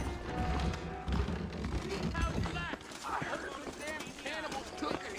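Horse hooves clip-clop in Red Dead Redemption, a steady rhythmic trot under game music and voices talking throughout.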